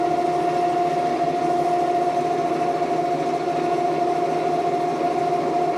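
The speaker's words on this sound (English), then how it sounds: "I like step drilling different sizes, because it's your bigger bits drill so easy" A steady, high whirring drone with a sustained tone, loud and continuous, of a step drill bit biting through metal at constant speed.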